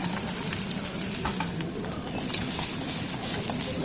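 Onions go into hot oil where mustard seeds, urad dal and chana dal have already popped, tempering for a radish chutney; a continuous close sizzle with scattered crackles and spits runs throughout.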